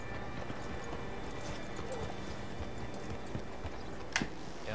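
Horse hooves clip-clopping in the video game Red Dead Redemption 2, a soft steady rhythm of hoofbeats under low ambient background, with a brief sharper sound near the end and no one talking.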